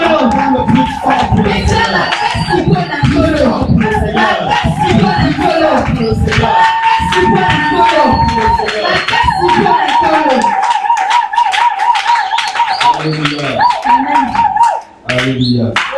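Church congregation cheering, shouting praise and clapping loudly together, a dense continuous crowd roar with many raised voices, fading briefly near the end.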